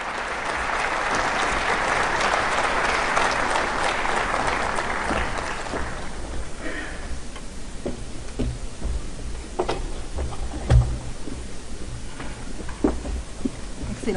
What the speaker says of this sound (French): Sous vos applaudissements, Mesdames et Messieurs, Monsieur le Président Évariste Ndayishimiye.